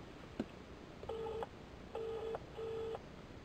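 Faint electronic telephone tones on a call to a tax helpline: one short click, then three evenly spaced, sustained beeps at the same pitch, with no voices.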